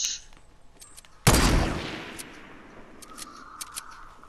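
A single sharp gunshot cracks out in a shooter video game, loud and close, then its reverberant tail fades over about a second against a quiet game background.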